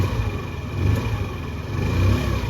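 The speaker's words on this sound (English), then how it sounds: "We're gonna just slowly start to increase the RPMs." A small 49cc scooter engine, warmed up from idling, is revved in two short throttle twists, its buzzy mid-pitched drone swelling and easing back, close-up with no voices.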